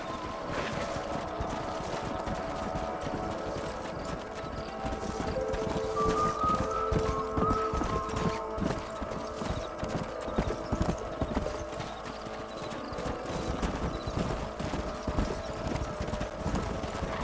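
Video game horse hooves clip-clop continuously at a steady trotting rhythm in Red Dead Redemption, with a brief whinny partway through, fairly close.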